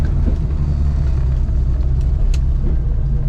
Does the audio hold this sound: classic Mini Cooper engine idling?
yes